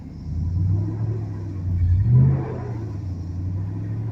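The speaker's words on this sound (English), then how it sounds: "It's running. That little junk box just started this truck after it had been sitting back here for years." A 1998 Ford F-150 pickup's engine runs after years of sitting, a low steady rumble with a brief swell midway as it revs slightly, fairly close and without talk.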